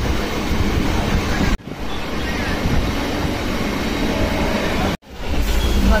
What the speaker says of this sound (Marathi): कोकणात ट्रेन मध्ये। मस्त गार वार घेत